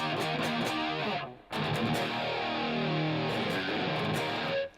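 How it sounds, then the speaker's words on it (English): Electric guitar played through a Strymon Big Sky reverb pedal on a Helix Rack rig, sustained chords ringing with a lush, washy tail, a brief cut near the middle before the notes resume and fade out. "So we still have the Strymon Big Sky reverb."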